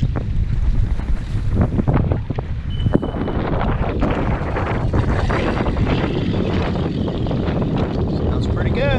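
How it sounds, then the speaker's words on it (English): A new Mercury 250 Pro XS four-stroke outboard runs on a boat out on open water, a continuous broad engine roar mixed with wind and water noise, loud and steady for the whole stretch. "we're out here with this new Mercury 4-stroke Pro XS"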